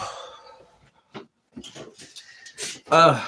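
A dog whimpers and pants in short bursts close by, while a person speaks nearby.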